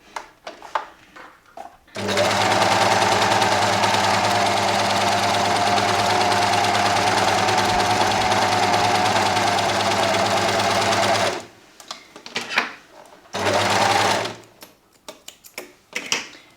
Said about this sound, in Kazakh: Қазір екі тігісті салыстыру үшін бірінші қарапайым оверлок тігісін жасап көрейік.